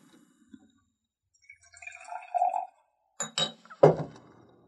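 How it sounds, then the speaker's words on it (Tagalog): Arak liquor is poured into a glass, with a soft liquid trickle followed by bright glassy clinks and knocks, close and quiet, with no talking. "Bukbukak ti baso."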